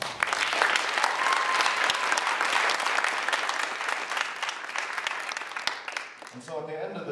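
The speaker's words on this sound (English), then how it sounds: "So please, give them a warm round of applause." Loud, sustained applause from a sizable crowd fills the space, steady clapping throughout before a voice begins speaking as it fades.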